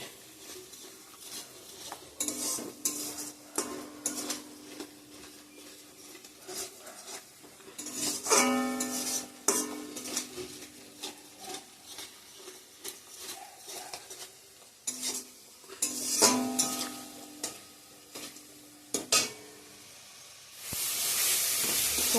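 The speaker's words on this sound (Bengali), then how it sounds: "ধনিয়া গুঁড়া, জিরার গুঁড়া। ভালো করে কষে নেব।" Coriander and cumin powder masala being stir-fried in a pan, with repeated scraping and clinking of a spoon against metal over a low sizzle, in irregular bursts.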